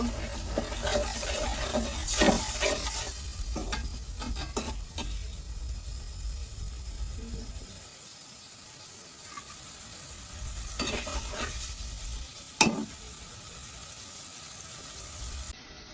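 Onion-garlic paste with water sizzles in a pan for a bottle gourd and shrimp dish, with scraping stirs in bursts over a steady frying hiss that eases for a stretch before picking up again.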